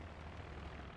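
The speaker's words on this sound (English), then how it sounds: "I hear a plane." An aircraft engine drones overhead on a battlefield in Company of Heroes, a steady, faint, low rumbling hum that persists without a break.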